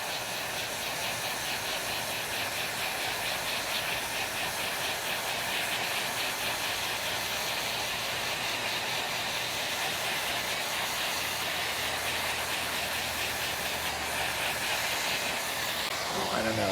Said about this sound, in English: Let me see if I can scrape some of it out.